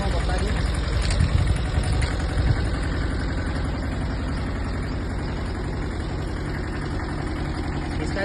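A Tata Ace mini truck's engine idles at a steady, even rumble throughout, close by, with voices talking over it.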